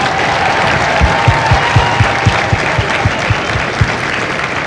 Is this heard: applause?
yes